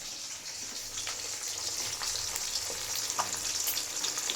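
Fish sizzles steadily as it fries in a pan on a home kitchen stove, with a constant crackling hiss and a few sharper pops, alone with no talking.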